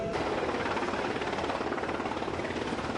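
A helicopter at a sea survival and winching exercise gives off a steady, dense, continuous rotor and engine roar, loud and unbroken throughout with no voices over it.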